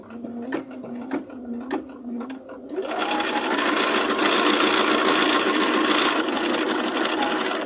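Sewing machine stitching a quilt seam, a few short whirring bursts starting and stopping before settling into a steady, loud continuous run close by.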